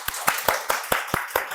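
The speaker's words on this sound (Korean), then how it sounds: "모두 오늘 이달에 오신 게스트를 박수로 맞아주세요." Audience clapping to welcome a guest at a small talk event, a steady rhythmic beat of unison claps, about eight sharp hits in under two seconds, close and fairly loud.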